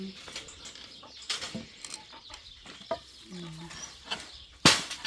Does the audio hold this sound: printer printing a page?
no